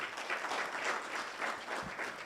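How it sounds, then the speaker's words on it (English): Audience at a voter registration and education seminar clapping steadily, a dense burst of applause lasting a couple of seconds at moderate distance with no voices over it. "Please give them a round of applause."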